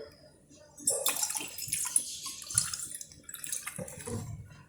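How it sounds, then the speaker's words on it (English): Water is poured into a steel glass with a splashing, trickling rush that starts after a quiet second and carries on steadily at close range. "I have taken a steel glass. I will add little water"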